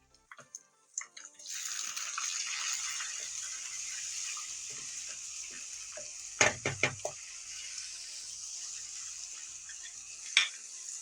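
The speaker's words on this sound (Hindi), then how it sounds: "अब यहाँ पर हम अदरक लहसुन का पेस्ट डालेंगे" Ginger-garlic paste hits hot oil in a frying pan for an achari vegetable dish, bursting into a loud, steady sizzle after a few soft clinks, with sharper spatters and scraping stirs partway through and near the end.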